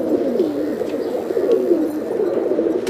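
A female Kaldum pigeon coos in a Mumbai pigeon loft, a low, continuous rolling murmur that rises and falls in waves, heard close and fairly loud without any talking.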